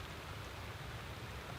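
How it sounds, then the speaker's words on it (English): Steady rain falling outdoors, a soft, even hiss with no distinct drops standing out, faint and continuous throughout. "the rain stopping me from cutting anything"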